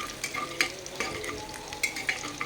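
Onions and two bay leaves frying in oil for a vegetable khichuri, a close, steady sizzle broken by repeated scraping and clinking of a spoon stirring against the pan, no voices.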